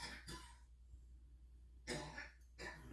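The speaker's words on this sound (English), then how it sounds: "he's in there coughing his head off" A few muffled, throaty coughs from a man somewhat off in the distance, with quiet pauses between them against a low steady hum.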